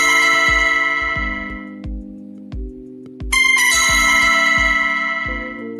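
A trader's alarm rings out loud and close, a repeating electronic tone with a bell-like chime layered over a pulsing melodic pattern, continuous and steady with no one speaking.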